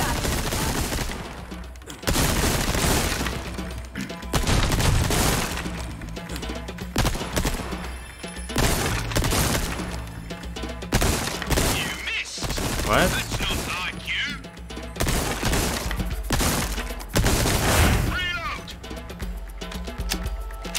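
A TMP submachine gun rattles in the Resident Evil 4 Remake, loud repeated bursts of rapid fire with short gaps, mixed with other game sounds and some speech.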